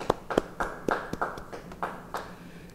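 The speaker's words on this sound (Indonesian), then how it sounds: "Yang setuju beri tepuk tangan bagi dia." A church congregation at a Bible study claps in sparse, uneven claps, about a dozen over a few seconds. The sound is fairly faint and has no cheering.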